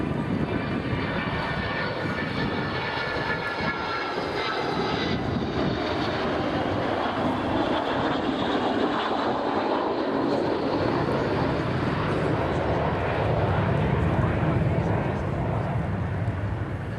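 An Avro Vulcan jet bomber roars steadily overhead at the RAF Fairford air show, a broad continuous rumble that swells slightly toward the end.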